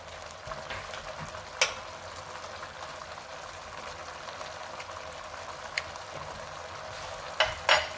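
Sicilian caponata vegetables heating through in a pan, a steady close sizzle and bubble with a few sharp clinks of a utensil against the pan.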